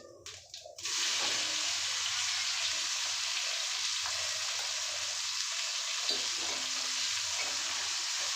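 Chopped onions hit hot oil with bay leaves and whole cumin for mutton kosha. A brief clatter gives way to a sudden loud, close sizzle that holds steady to the end, with no voices.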